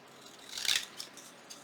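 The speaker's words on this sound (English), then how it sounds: "all I did was I turned my card upside down and I just trimmed around just like this" Scissors trimming paper scraps around the edge of a junk-journal flash card, one brief close snipping cut followed by a couple of faint softer snips.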